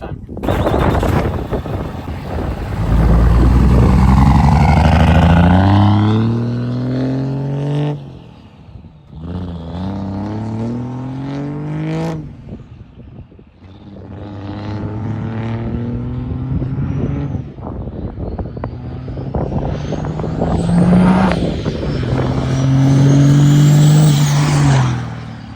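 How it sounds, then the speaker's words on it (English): A 4th-gen Cummins 6-speed diesel truck tuned past 1000 horsepower, loud and close, revs hard through repeated rising surges, dropping back between pulls while tires squeal in burnouts. "Just keep doing burnouts"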